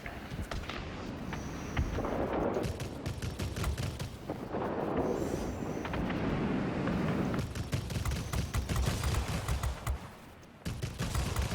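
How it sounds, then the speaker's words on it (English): Aircraft machine guns rattle in sustained bursts during a World of Warplanes dogfight with a Tier X Fw 252 fighter, dense and loud, with brief lulls between strings of fire. "Trying to keep these guns from overheating too much so I can get better consistent damage out here"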